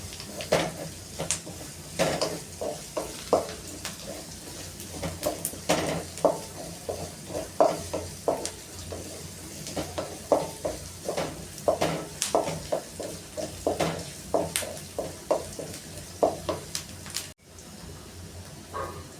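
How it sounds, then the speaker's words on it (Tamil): Onions frying in a pan for egg curry while being stirred, repeated scraping and clinking strokes of a utensil against the pan in an irregular rhythm over a faint steady sizzle, close and with no talking. "வெங்காயம் வந்து நல்லா பொன்னிறமாக வணங்கட்டும்."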